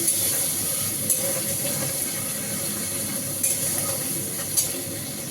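Ginger paste sizzling and frying in a hot pan, a steady close hiss with a few louder spits and stirring bursts, no voices.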